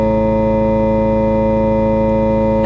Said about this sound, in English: Now we're going to switch the sound to small pipes.